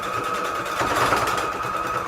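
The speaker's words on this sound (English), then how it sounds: "my sewing machine is, it's just being weird." A sewing machine runs steadily with a fast mechanical whirring hum, continuous and close, with no pauses.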